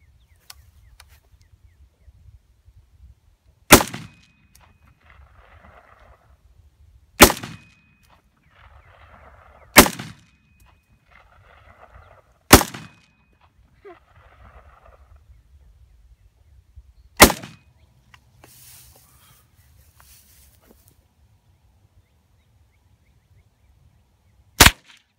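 Gunshots at an outdoor shooting range: six sharp, loud reports spaced a few seconds apart, each with a short echoing tail, with faint distant chatter between shots and a near-silent gap before the last crack.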